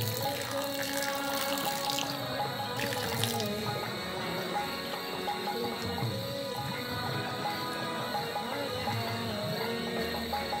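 Water runs in a steady stream onto washed sago pearls to soak them, a continuous close splashing and trickling with no talk.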